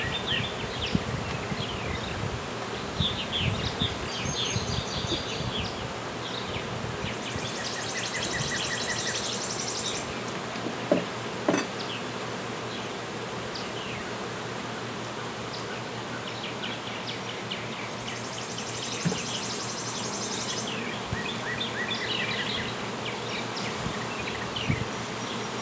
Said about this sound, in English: You got some bees mad.